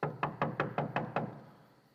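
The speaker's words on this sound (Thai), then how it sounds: "เปโตรก็ไปเคาะประตูจั้นนอกบ้าน" Knocking on a house door from outside, seven firm, evenly spaced raps in quick succession, then fading quiet.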